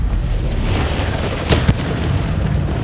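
Blasting-spell explosions from the Confringo curse in Hogwarts Legacy, a dull rumbling boom with a couple of sharper bursts midway over a steady roar of combat noise.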